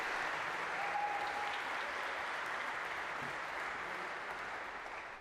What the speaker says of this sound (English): maybe a round of applause for our 3 volunteers